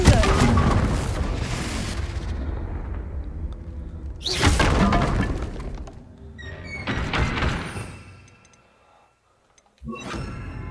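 Confringo fire-blast spell in the Hogwarts Legacy video game, a series of loud booming bursts with rumbling tails, several hits spaced a few seconds apart, a brief silence, then another blast.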